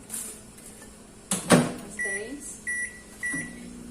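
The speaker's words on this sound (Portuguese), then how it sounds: "Se você colocar novamente ele no micro-ondas sem mexer, ele vai pegar calor no mesmo local." A microwave oven hums steadily while chocolate melts inside, with a door clunk and several short electronic beeps sounding nearby.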